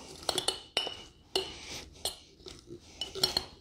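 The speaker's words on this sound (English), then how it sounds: "We're going to add a tablespoon of mulling spices. We're going to muddle that" Cranberries, rosemary and mulling spices are muddled in a glass, producing sharp clinks and knocks against the glass at an irregular pace, close and moderately quiet, with no voices.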